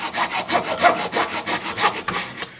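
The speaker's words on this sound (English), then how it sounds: "It's good to use a coarse blade because it lets you cut quicker through the plastic" Coarse hacksaw blade held in the hand cutting through a plastic LSx intake manifold, a series of close, loud rasping back-and-forth strokes in steady rhythm with no speech.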